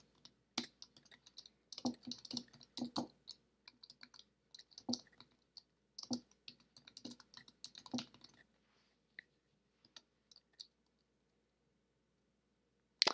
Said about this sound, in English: So let's go ahead, type in that command.